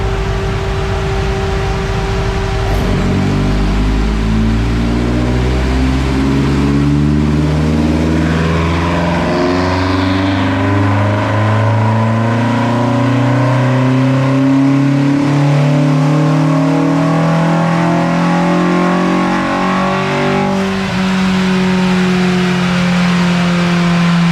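A VW Mk2 GTI 16v engine on individual throttle bodies revs hard on a dyno, pitch climbing steadily through a long pull with a loud, close, continuous roar and no talk.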